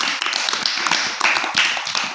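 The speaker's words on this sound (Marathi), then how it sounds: "सर्वांसाठी पुन्हा एकदा टाळ्या वाजूयात" Schoolchildren clapping in a classroom, a close, uneven patter of many sharp hand claps lasting about two seconds.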